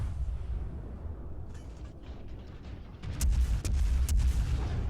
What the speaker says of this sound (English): that's me just dropping shells all around this Fuso here